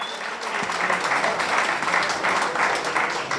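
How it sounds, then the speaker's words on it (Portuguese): A crowd applauds steadily, a dense wash of clapping that stays loud and even throughout, with no talking. "Aplauso seguro, mais forte"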